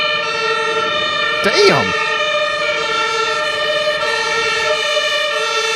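Fire truck and emergency vehicle sirens wail loudly in a passing convoy led by an ambulance, steady tones with a sharp swooping horn burst near the start, while a man mutters briefly.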